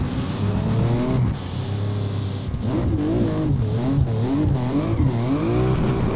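A BMW engine revs hard while drifting in the video game Peak Angle: Drift Online, a loud, continuous racing whine that rises and falls in waves with squealing tires, no voices.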